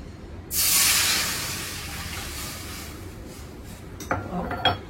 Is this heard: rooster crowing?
no